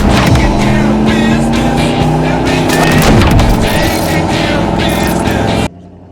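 A lifted 1990 Ford F-150 XLT Lariat 4x4 pickup with a 5.8-litre 351 Windsor V8 and automatic transmission roars loudly and continuously while driving, with whirring pitch changes and road noise, cutting off abruptly at the end.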